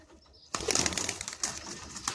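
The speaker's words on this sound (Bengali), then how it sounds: "দেখুন দাদার একটি একটি করে পায়রাগুলো বেরোচ্ছে।" Pigeons of an old Madrasi bloodline leaving a loft one by one, a sudden rush of wing flaps and soft cooing close by after a brief quiet start, without talking.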